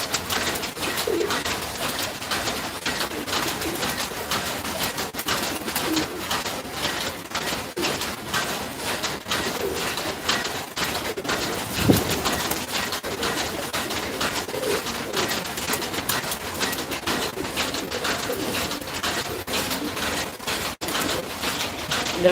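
Pigeons in a sunny coop coo continuously, a steady layered murmur of many birds close by, with faint scattered knocks and rustles and no talking.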